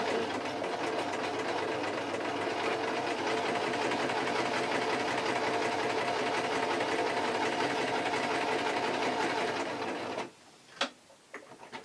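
A sewing machine stitches a facing seam on taffeta for a baby party dress, running as a rapid, steady mechanical chatter for about ten seconds before stopping, followed by a few small clicks.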